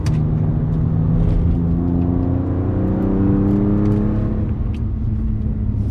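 A BMW M2 drives laps on a track, its engine droning loudly up close, the note climbing in pitch and then easing off under a constant rumble.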